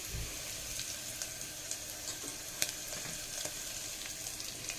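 Chicken pieces fry in a pan, a soft, steady sizzle with scattered crisp pops and small clicks, fairly quiet and unbroken by speech.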